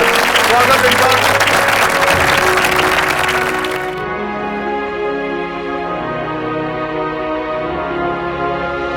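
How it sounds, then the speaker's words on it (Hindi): Loud applause greets an award recipient at a Dharti Mitr felicitation ceremony, dense clapping for about four seconds that gives way to a sustained musical tone. "बहुत जोरदार तालियों के साथ स्वागत है इनका"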